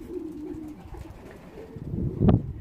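Racing pigeons coo in soft, low throaty bursts against a faint background hum, with a louder, closer coo swelling near the end.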